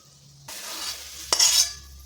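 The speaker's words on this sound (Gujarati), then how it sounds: "ભાજીને આપણે અહીંયા ઘીમાં સાતરી લેવાની છે" Fenugreek greens are sautéed in ghee in a pan: a sudden sizzle starts and carries on, broken by a sharp clink of a utensil against the pan and a brief burst of stirring, with no voices.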